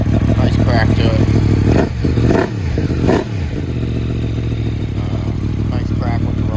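A Yamaha MT-10 motorcycle with a decat exhaust pipe idles loudly up close, its deep engine note cut by two sharp throttle blips around the middle before settling back to a steady rumble.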